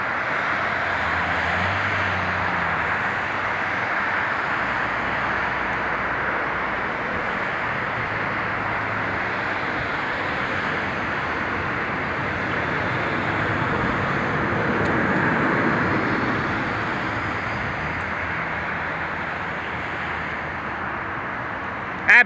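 A C-17 Globemaster military transport jet rolls out after touchdown at Portland International Airport, its engines making a steady, broad, rushing roar that swells slightly midway and heard from a distance with no talking.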